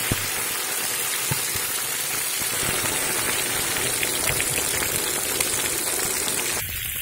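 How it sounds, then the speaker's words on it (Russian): Pork frying in oil in a kazan over a campfire makes a dense, steady crackling sizzle like rain on a surface, close and continuous for several seconds before easing off at the very end. "Мяско жарится."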